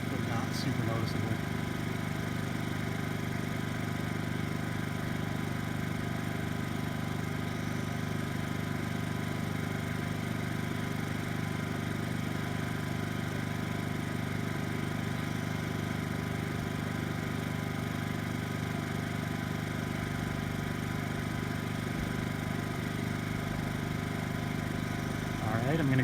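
A Honda inverter generator hums steadily in eco mode at reduced RPM, a quiet, constant tonal drone with no changes in pitch or level.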